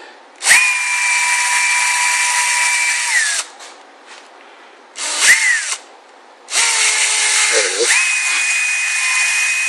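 A power drill with a quarter inch by 20 bit bores through a Kydex cheek rest on a Hogue stock, with three sustained high whining runs separated by short pauses, loud and close.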